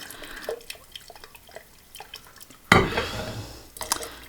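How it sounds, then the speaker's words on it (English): Boiling water poured slowly from an electric tea kettle into a glass jar, a sudden close splashing gush starting partway through after faint drips and clinks, then a second brief burst of pouring near the end. "So here's my little electric tea kettle. Gonna pour that in a little slowly"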